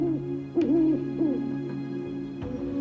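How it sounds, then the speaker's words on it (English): An owl hoots in a storybook reading, several wavering hoots close and clear over a steady low drone, with no talk. "the frightened bird spread his new wings, and hooting, flew far into the distant woodlands."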